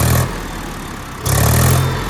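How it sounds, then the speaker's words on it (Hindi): A Mahindra 265 DI XP Plus tractor engine, loud and close, revved briefly, drops back to idle for about a second, then revs again and holds before easing off. "थोड़ा सा एक्सीलीटर खींच के सुनाइए, थोड़ा सा एक्सीलीटर दीजिए ट्रैक्टर को"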